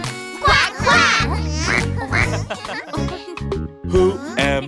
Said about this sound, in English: Yes, yes, I am a quack, quack duck.